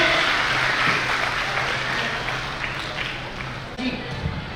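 Crowd at a Meena community gathering and biennial convention claps continuously, a thick, steady wash of applause with some background voices mixed in throughout.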